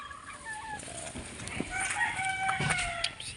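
A Kelso gray gamefowl rooster crows at a backyard fowl pen, a faint, moderately distant call with other fowl clucking around it.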